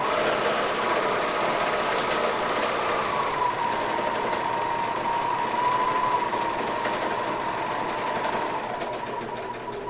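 A two-needle serger runs steadily while it stitches and trims fabric with its built-in knife, a loud continuous mechanical whir with a rising tone as the stitching steers around a curve.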